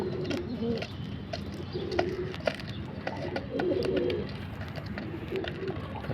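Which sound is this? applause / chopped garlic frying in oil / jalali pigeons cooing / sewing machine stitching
jalali pigeons cooing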